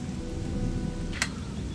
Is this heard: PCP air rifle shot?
no